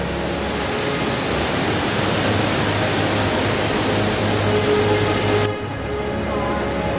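Iguazu Falls in Argentina pour down in a dense, steady roar of rushing water that holds even and loud, then drops away abruptly near the end.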